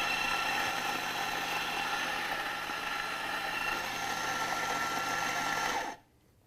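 An espresso grinder grinds a double dose with a steady, close whirring motor that holds for about six seconds, then cuts off abruptly into near silence.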